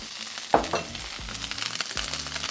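Rice hits sesame oil on a hot griddle with a sharp crackling sizzle, then continues as steady frying hiss punctuated by scraping spatula strokes, close and alone without talk.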